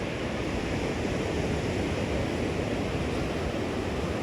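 Ocean surf breaking on a beach in rough water makes a steady, loud, broadband rush that continues without pause, with no voices.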